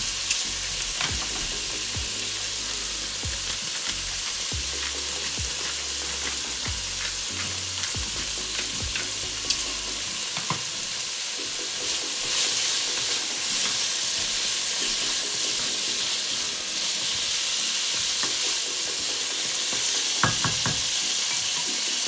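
A keto stir fry sizzles and fries in a pan, giving a continuous close hiss with scattered crackles and occasional utensil clinks. Low rumbles stir under it early on, and the sizzle holds steady throughout.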